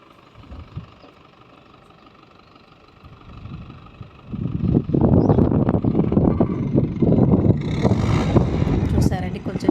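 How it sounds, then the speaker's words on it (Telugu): A tractor engine works in a flooded rice paddy during transplanting, a low idle at first, then a loud, rough churning roar builds and holds close to the microphone, with wind buffeting. "ఇంకా ట్రాక్టర్ సౌండ్ అయితే వినండి చాలా వస్తుంది."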